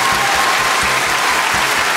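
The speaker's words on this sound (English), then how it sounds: "Round of applause, come on." A studio audience at a comedy panel show breaks into steady, dense applause, loud and close, holding evenly throughout with no voices over it.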